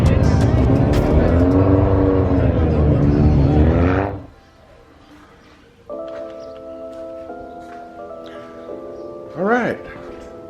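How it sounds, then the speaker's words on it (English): Cars at a big car meet, with a loud engine droning and revving close by for several seconds. It cuts to quieter background with steady tones and a brief rising whoosh near the end. "This place crazy out here. Cars everywhere."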